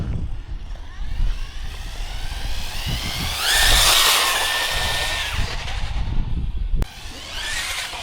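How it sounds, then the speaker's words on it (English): Budget DEERC 1217 RC basher car with an odd-sounding gear mesh, a whirring, whining motor and drivetrain that rises and falls in pitch, fairly close, ending in a sharp click and a quieter whine. "Gear mesh sounds really weird."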